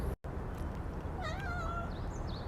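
A cat gives a single drawn-out meow, fairly close and clear, over a steady background hiss, with no voices.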